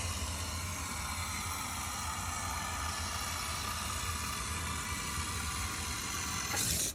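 A continuous, even hiss of aerosol rust protection spraying close by into a Citroen C1 car body, steady throughout, ending with a brief louder burst.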